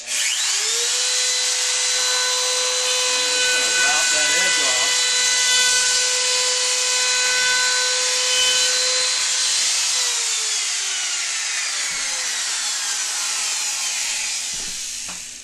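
A router cutting walnut wood with a bit set deep, producing a loud sustained whine with a steady tone that shifts pitch partway through the cut, close and alone without talk.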